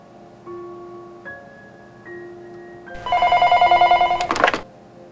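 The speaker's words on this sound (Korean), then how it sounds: "다음날 영민이가 있는 수사팀으로 전화가 걸려왔다." A telephone rings at a police investigation team's office: a few soft tones first, then a loud electronic ringing burst with a rapid warbling pulse that cuts off sharply after about two seconds.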